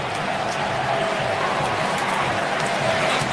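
A packed Wrigley Field crowd roars after the Cubs score, a broad, sustained wash of cheering that stays even and dense with no distinct voices standing out.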